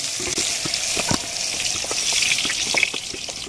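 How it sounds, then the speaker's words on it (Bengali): Cauliflower florets sizzle in hot oil in a pan, a continuous bright crackling hiss with scattered pops and occasional stirring clinks, steady and close. "দেখো আমার কপিগুলো লাল লাল করে ভাজা হয়ে গেছে, আমি এবার নামিয়ে নেব।"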